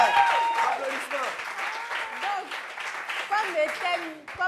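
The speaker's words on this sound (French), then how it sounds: "Applaudissements pour Konemia, s'il vous plaît" An audience applauds for a woman named Konemia at a gathering, clapping under a presenter's voice that keeps talking over it, with a crowd murmur and some rhythmic claps.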